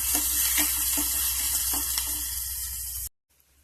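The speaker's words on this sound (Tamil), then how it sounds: "ஒரு பெரிய வெங்காயம் அரைஞ்சிருக்கேன். நல்லா வதங்கட்டும்." A large ground onion fries in hot oil with curry leaves and dried chillies, making a loud, steady sizzle with a few soft stirring scrapes before cutting off abruptly near the end.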